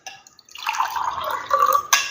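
Lime water dissolved in a tumbler is poured out in a thin, trickling stream, close and clear, with a faint glassy clink at the end.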